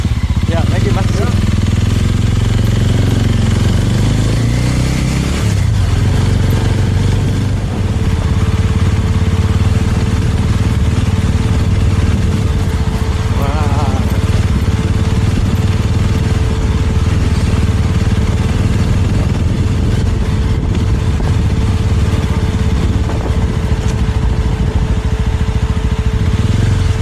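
A motorbike engine idles steadily and close by at a beach access point on the Banggai Islands in Sulawesi, Indonesia, a low continuous rumble with people talking over it.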